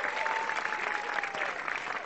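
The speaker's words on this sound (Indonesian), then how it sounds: "tepuk tangan sekali lagi untuk keempat komik kita" A studio audience at a stand-up comedy show gives a sustained round of applause for the comedians, dense and even, with a faint voice briefly audible.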